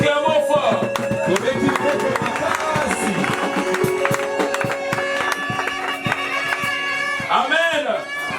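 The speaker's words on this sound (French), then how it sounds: "Acclamons fort." A wedding congregation during a nuptial blessing cheers and applauds loudly and continuously, with a dense crowd roar, claps and voices filling the space close by.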